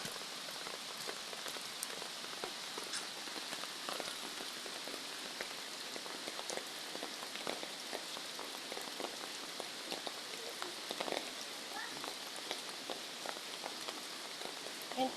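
Steady light rain patters on a vegetable garden of young cucumber plants, with dense scattered drops ticking close by at a soft, even level throughout.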